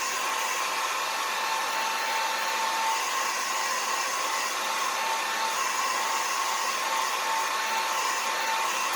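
A hair dryer blows steadily on thick finger paint, a constant close whirring hum that stays even and unbroken throughout, with no voices.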